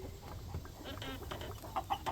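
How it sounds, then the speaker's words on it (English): Ornery roosters and hens in a backyard flock cluck and squawk in short, mid-distance bursts over steady outdoor background noise, with no clear full crow. "there's the ornery roosters who need a new home"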